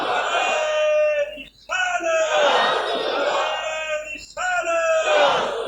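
Large crowd in a mosque during a Friday sermon chanting religious slogans in loud unison, roaring voices in long swelling calls separated by two short pauses, close and forceful.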